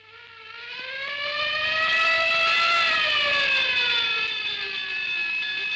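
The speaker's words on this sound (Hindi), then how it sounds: "ये पुलिस की गाड़ी गश्त कर रही है" A police car's siren on patrol, heard from outside a home: a single wailing tone that swells in from a distance, peaks, and slowly glides down, steady and unaccompanied by speech.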